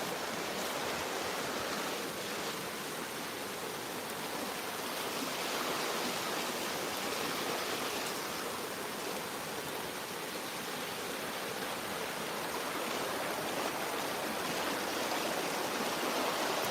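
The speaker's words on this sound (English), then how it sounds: "A little fast stream over here." A small, fast stream in Finnish Lapland rushes steadily and close, a dense unbroken wash of flowing water with no pauses or voices.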